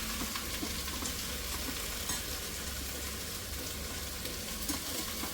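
Okra fries in a small wok, giving a steady, soft hiss of sizzling oil that runs the whole time with faint stirring scrapes, fairly quiet and unbroken by voices.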